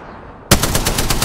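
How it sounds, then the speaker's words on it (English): Rapid automatic gunfire from a weapon in Apex Legends bursts in abruptly and continues as a fast, loud, steady stream of shots, close and alone. "Firing."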